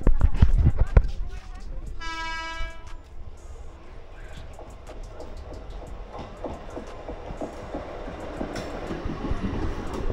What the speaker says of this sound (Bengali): আর অলরেডি দেখো ট্রেন ঢুকে গেছে।